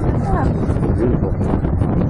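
Steady, loud wind buffets the microphone on a breezy November harbourside at Whitby's West Cliff, a continuous low rumble with voices faintly mixed in beneath it.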